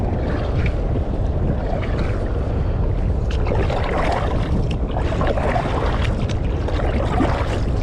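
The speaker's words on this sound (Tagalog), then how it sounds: "Eh, lumakas ang hangin" A strong sea wind buffets steadily and close, a loud, continuous rumbling roar with gusty surges over the water, with no voices.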